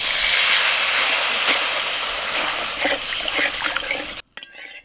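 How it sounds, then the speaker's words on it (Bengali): Water poured into hot spice paste for a village crab curry bursts into a loud, steady sizzle and hiss that fills the pan for about four seconds, then cuts off abruptly into quiet. "এবার মশলাটায় জল দিয়ে দেবো।"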